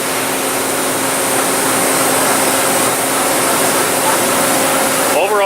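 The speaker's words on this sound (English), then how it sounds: "That would be the basket going down into the 3/4 position with the basket spinning to throw the excess paint, sealer, whatever you may have, wax" A Sping Tool 24-inch SP4 S24ADD dip spin machine runs with its basket spinning, a loud constant mechanical whirring hum that holds steady throughout with a faint sweep at the end.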